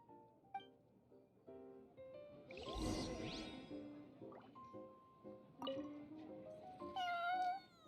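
A cat in a video game meows in several short calls with a longer, drawn-out wail, mixed with chimes and whooshes, with no talking.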